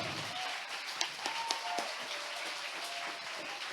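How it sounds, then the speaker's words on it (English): An audience at a journalism talk breaks into a round of applause, a broad crackle of many hands clapping with a few sharper claps standing out, continuing steadily to the end. "give a huge round of applause to Natalia"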